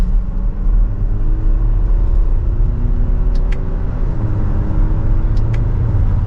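Inside a Lexus NX 350 on a road test drive, the engine's smooth hum rises steadily in pitch over a constant road rumble, with a couple of faint ticking clicks.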